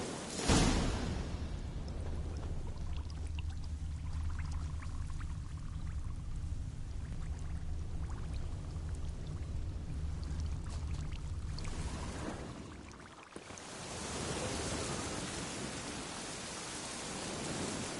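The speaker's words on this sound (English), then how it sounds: "Looks like rain." Steady rain hisses in a PS4 video game, a dense, even wash of noise that lasts throughout, briefly dipping near the end before returning at full strength, with no voices.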